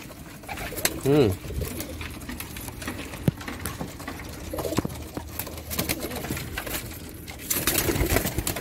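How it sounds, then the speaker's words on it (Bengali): Restless pigeons coo in soft, low bursts while wings flap and scuffle nearby, with a brief louder flurry near the start and again at the end, under some talk. "ও প্রচণ্ড ছটফটে পায়রা"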